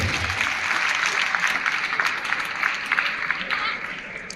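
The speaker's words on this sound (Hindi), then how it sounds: "बेटा तालियां जरूर हो जानी चाहिए।" Audience applause at an annual prize distribution ceremony at a government senior secondary school in Hamirpur, a dense, steady clatter of many hands throughout with some voices mixed in.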